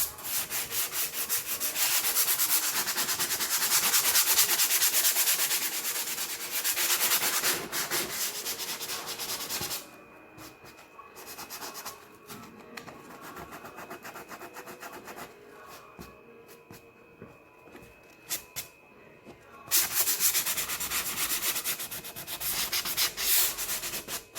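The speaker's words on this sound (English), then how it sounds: "so just another quick sand over the top of everything, very lightly over the transfer." Light hand sanding over chalk-painted cushion fabric and a transfer, a steady scratchy rubbing that runs loud in long strokes, thins into quieter intermittent passes midway, then returns to fuller strokes at the end.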